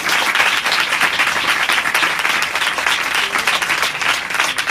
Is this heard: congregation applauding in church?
yes